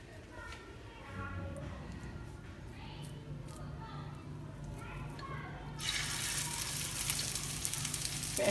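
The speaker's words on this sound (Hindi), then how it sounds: "तवे पे हमने थोड़ा सा ऑयल डाल लिया क्योंकि हम इसको बहुत ज़्यादा डीप फ्राई नहीं करना, इन कबाबों को शैलो फ्राई करना है।" Chicken seekh kebabs shallow fry in a little oil on a tawa with a soft, steady sizzle that turns into a louder, brighter hiss toward the end, while someone talks over it.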